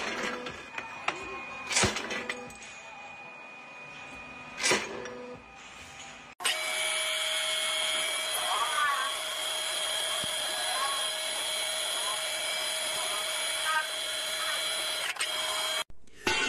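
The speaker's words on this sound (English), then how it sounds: "This automatic stone cutter slices through solid rock as if it were soft cheese." An automatic stone cutter grinds steadily through rock with a high, sustained whine, after a few sharp impacts and bursts at the start.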